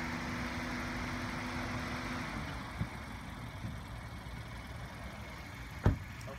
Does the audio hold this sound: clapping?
no